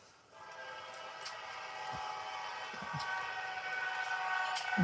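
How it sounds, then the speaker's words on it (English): A train rumbles past at a steady, building level with a broad continuous roar, brief low thumps and faint high squeals, no talk over it, heard indoors during a dog grooming session. "The train."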